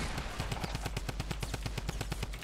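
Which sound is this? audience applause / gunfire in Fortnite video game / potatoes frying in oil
gunfire in Fortnite video game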